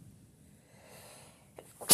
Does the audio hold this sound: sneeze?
yes